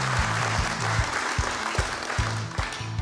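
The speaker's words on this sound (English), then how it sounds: "About a round of applause for me," A small group applauds for a few seconds, the clapping steady and fairly close with some looser individual claps mixed in, and low music playing underneath.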